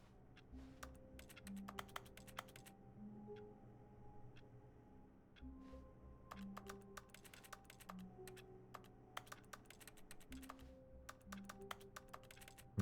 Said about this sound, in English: I'm still making typing noises from all the way over here